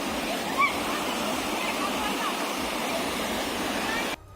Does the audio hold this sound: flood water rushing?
yes